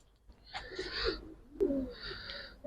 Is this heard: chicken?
no